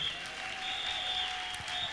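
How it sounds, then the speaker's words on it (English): Church congregation clapping during a Sunday service, a soft, steady patter of hands heard at a distance, with a sustained tonal hum running beneath it. "Give Jesus a clap offering"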